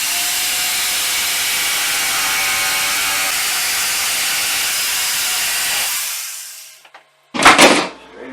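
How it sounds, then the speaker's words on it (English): A jigsaw cuts wood for a shelf with a loud, continuous hissing buzz close by for about six seconds, then stops, followed by a short clunk. "I'm just going to use a jigsaw because I've got to make 1, 2, 3, 4, 5, 6, 7, 8."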